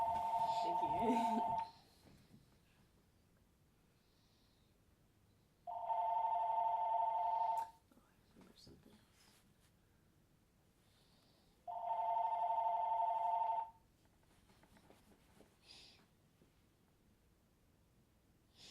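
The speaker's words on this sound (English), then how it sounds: "That's my house phone." A house telephone rings three times in long electronic bursts, each about two seconds, with quiet gaps of several seconds between them in an otherwise still room.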